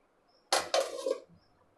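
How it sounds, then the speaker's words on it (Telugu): A metal lid set down onto a pot of freshly cooked pappucharu, Telugu lentil-tamarind stew, in a home kitchen: two quick close clanks in succession, then a brief rattle as it settles, alone in a quiet room. "మూత పెట్టేసుకొని పక్కన పెట్టేసుకుందాం"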